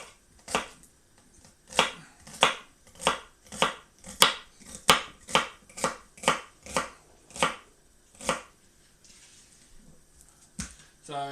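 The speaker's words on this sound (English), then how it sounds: "with the celery, I'm chopping it up" Knife chopping celery on a cutting board for a puree: about fifteen crisp, evenly spaced chops, close and fairly loud, followed by a short quiet stretch and a final sharp knock.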